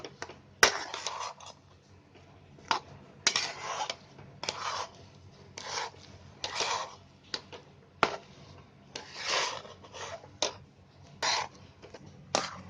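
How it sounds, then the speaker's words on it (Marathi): Cooked semolina (rava) for gulab jamun is stirred in a plate to cool it, giving repeated close scraping and rubbing strokes in irregular bursts with short pauses between them. "हे हलवून हलवून जरा थंड करून घ्यायचं पटकन"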